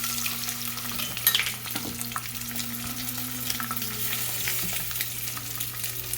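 Eggs fry in a pan for a coconut egg dish, giving a steady low sizzle with faint stirring scrapes and a brief louder clatter early on, close and even throughout.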